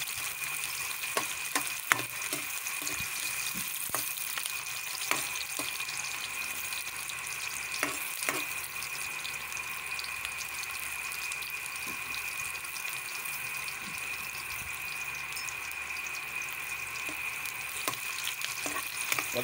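Onions and chorizo fry in a pan for Bicol pancit bato, a quiet, continuous sizzle with scattered small pops and ticks throughout and no one speaking.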